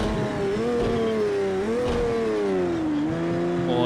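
Porsche 917 K racing car with a 4.9-litre 180-degree V12 engine in the Project Cars 2 video game, its loud, steady engine howl rising and falling through gear changes, close and continuous, with no voices.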